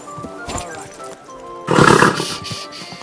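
A horse snorts and whinnies close by, with a louder burst of neighing partway through, amid some background movement.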